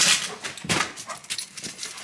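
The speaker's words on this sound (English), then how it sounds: "Come on, puppies." Puppies whimper and give short yips, several quick high cries in close succession, near and fairly loud.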